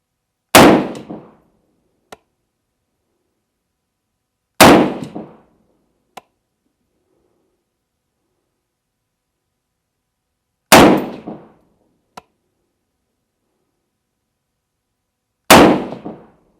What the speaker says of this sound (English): Let's see what this thing will do. Take this thing off safe. I'm going to shoot at that middle target.